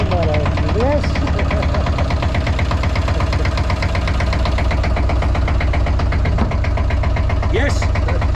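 Old Sabb 11 hp single-cylinder inboard of a 1972 Nordan 21 boat running steadily just after starting, a loud close rhythmic thumping chug throughout, with people talking and exclaiming over it.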